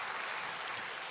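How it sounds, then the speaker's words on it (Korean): A church congregation at a Sunday afternoon service gives encouraging applause, a dense continuous wash of many hands clapping together, fairly distant and even throughout. "우리가 또 박수로 격려의 박수를 드립니다"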